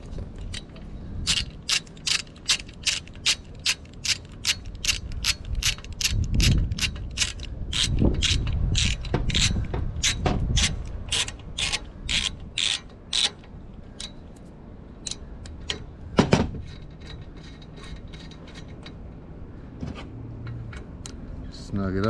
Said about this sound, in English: Snug it up a little bit, don't want to strip the thread.